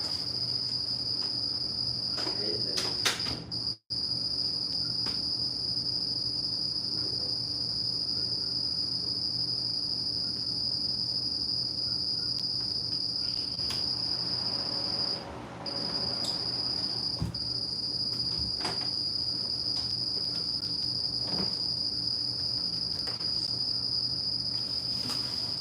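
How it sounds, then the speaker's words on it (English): Cricket loose indoors, chirping in a steady, continuous high trill throughout, fairly close and clear over a quiet room. "it appears that someone has let loose a cricket somehow in here, so I apologize for the noise"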